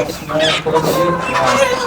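Country hens on a poultry farm cluck continuously, many overlapping calls at moderate distance in a busy, noisy shed.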